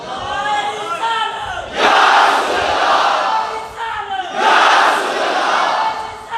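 A large crowd at a religious gathering chants in unison, two loud roaring bursts of an Allama Iqbal slogan separated by a calmer stretch with a single voice leading.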